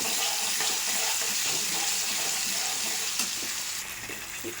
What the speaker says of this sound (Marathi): मोहरी तेल कडकले, आता कांदा आणि लसूण टाकले ह्याच्यामध्ये